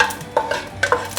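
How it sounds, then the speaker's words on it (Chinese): Carrots stir-fried in a little oil in a stewing pot, a few quick scraping strokes of a spatula against the pot over a soft sizzle, close and brief. "把红萝卜稍微炒一炒，让它变色"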